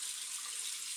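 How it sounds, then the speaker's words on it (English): Tap water runs steadily into a kitchen sink during dishwashing, a continuous broadband hiss heard alone, with no voices and no breaks. "I'm just doing the dishes here."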